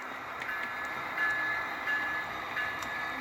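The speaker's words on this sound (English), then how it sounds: "Come on, Amtrak, get your butt in there. He kind of pulls in, stops there." HO scale model Amtrak train rolling in and coming to a stop, a steady close mechanical hum and whir with faint rhythmic clicks and a slight swell midway.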